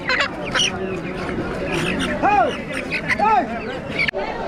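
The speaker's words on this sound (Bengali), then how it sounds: "একটা চার কেজি পাঁচ কেজি হবে পাহাড়ি মুরগি ক্রয় করতে চান" Hill chickens and other fowl cluck and squawk at a busy weekly village market in the hills, with two clear calls standing out over a steady hubbub of crowd talk.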